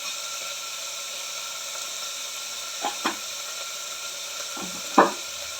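Ingredients for a Mangalore cucumber sambar frying in a pan give a gentle, steady hiss, broken by a few light utensil clinks and a sharper scrape near the end.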